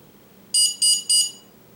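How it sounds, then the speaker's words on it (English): Three short, loud electronic beeps in an even rhythm from a quadcopter's electronic speed controller right after the battery is connected, close up over a quiet background. "so we got 3 beeps along with the long beep"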